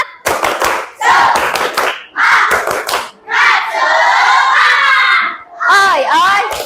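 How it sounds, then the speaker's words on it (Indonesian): A classroom of primary school children performs a rhythmic clapping cheer, loud close bursts of unison claps followed by shouted chant phrases, repeating in quick sections with a teacher's lead. "kita tepuk semangat dulu. Tapi harus suaranya yang keras dan lebih bersemangat"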